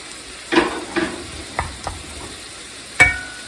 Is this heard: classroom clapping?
no